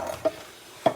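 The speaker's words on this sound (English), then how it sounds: "the chocolate probably needs a bit of a stir" A spoon stirring melting chocolate in a bowl, two distinct scraping clinks against the bowl about half a second apart over a quiet background, close by with no talking.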